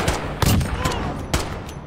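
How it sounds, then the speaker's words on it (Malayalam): Rapid bursts of gunfire in the multiplayer shooter Call of Duty Modern Warfare, several loud sharp cracks in quick succession over a steady background of game noise. "എങ്ങോട്ടൊക്കെ വെടി വെച്ച്."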